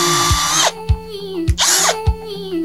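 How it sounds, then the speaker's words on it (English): A power drill bores a hole into a center-punched mark for a rivnut, with two loud high-pitched bursts of cutting whine separated by lower spinning hums and short knocks. "We can start to drill the rivnut."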